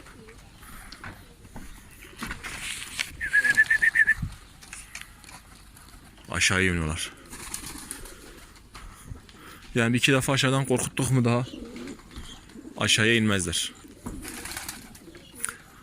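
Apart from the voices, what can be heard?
pigeons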